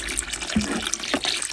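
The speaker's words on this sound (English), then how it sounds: "And then I'm gonna start bottom watering them." Tap water running steadily into a container for bottom watering houseplants with lightly fertilized water, a continuous close splashing flow with small gurgles.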